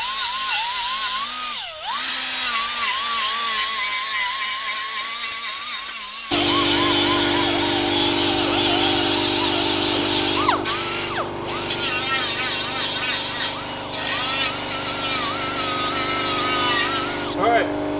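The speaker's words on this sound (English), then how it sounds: "I have to grind all this away, clean the paint off, so we have a smooth welding surface." A power tool grinds paint off a metal plate on a Harbor Freight engine stand to prepare a welding surface, a continuous loud abrasive whine and rasp with shifting pitch as the tool presses and eases.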